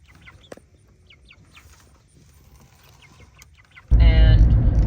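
Faint, scattered chicken clucks over quiet background, then a sudden loud burst of squawking and rumbling close by near the end.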